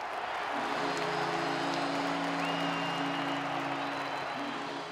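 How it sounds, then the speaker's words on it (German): A crowd of Bolzano Foxes ice hockey fans cheers loudly and steadily after a goal in an arena, with a sustained roar and horn-like tones, continuous throughout. "Ausgelassener Jubel bei den Foxes in Drittel Nummer 3"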